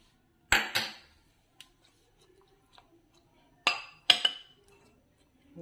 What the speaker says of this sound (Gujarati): આને આવી રીતે મિક્સ કરી લઈશું